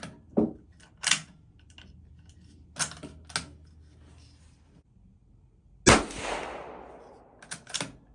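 Sharp, distinct rifle shots from a Ruger Precision .22 Magnum firing CCI 40 grain hollow point rounds, with widely spaced single cracks and quieter clicks between them, and one louder report followed by a trailing echo.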